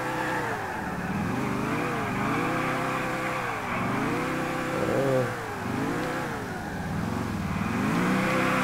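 A car drifting in GTA IV, its engine note rising and falling in repeated waves as the throttle is worked through slides, loud and continuous throughout with no talk.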